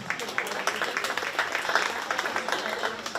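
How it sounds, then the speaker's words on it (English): Crowd at a county fair 4-H swine show applauding to welcome the judge, a brisk, dense burst of many hands clapping at moderate loudness, steady for the whole moment. "let's give Corey Jonke, our judge, a nice welcome round of applause to Shelby County"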